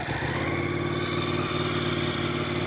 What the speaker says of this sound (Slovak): Ten motor vám aj naštartujem a budete počuť ten krásny zvuk, ktorý produkuje